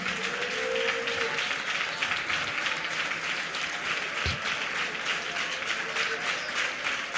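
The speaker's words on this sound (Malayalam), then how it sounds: "ഉറപ്പുള്ളവരെല്ലാം കൈയടിച്ച് ദൈവത്തെ ആരാധിച്ചാട്ടെ, ശക്തമായി ആരാധിച്ചാട്ടെ" A church congregation claps together during worship, producing sustained, dense applause that holds at a steady level for the whole stretch, with no pauses.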